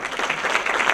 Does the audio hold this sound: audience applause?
yes